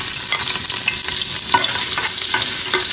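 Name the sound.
sautéing ginger in oil in a pressure cooker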